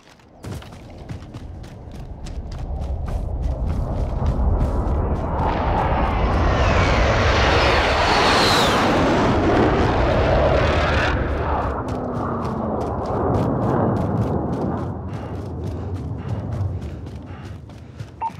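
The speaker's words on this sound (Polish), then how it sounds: "BSP rusza na patrol." UAV drone in the Call of Duty Warzone video game heading out on patrol, a rising, roaring engine sweep that swells loud through the middle and then tapers, over a faint clicking background.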